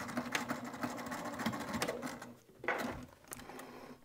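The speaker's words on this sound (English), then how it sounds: "and sew right off the edge." A home sewing machine stitches a fabric wristlet right off the edge, whirring steadily up close, pausing briefly, then running again in short bursts.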